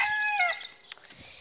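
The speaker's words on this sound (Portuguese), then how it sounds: "o galo cantando" A single rooster crow rings out loud and close, stretching for about half a second before fading into quiet scattered sounds.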